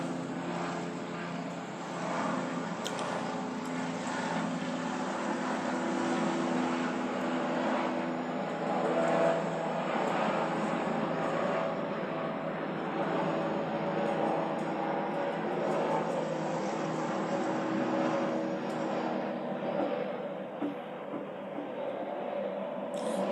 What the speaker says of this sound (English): everybody know there's a plane passing overhead.